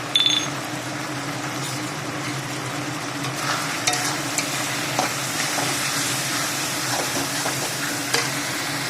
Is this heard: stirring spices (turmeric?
yes